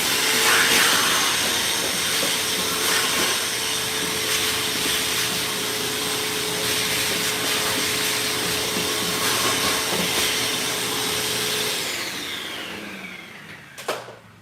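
A wet-dry vacuum roars steadily as it sucks standing water out of a dishwasher's filter area, a loud continuous whine and hiss that cuts off near the end with a brief clunk.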